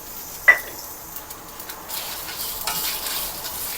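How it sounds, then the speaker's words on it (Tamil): Coconut, ten cloves of garlic and a piece of ginger sauté in a pan for a village-style mutton curry masala: a brief scrape near the start, then a soft, steady sizzle close by, with no talking. "இது கூட ஒரு 10 பல்லு பூண்டு, ஒரு துண்டு இஞ்சி போட்டு வணக்கிக்கலாம்."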